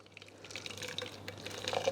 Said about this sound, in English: So now we'll just put the bit more hot water in that.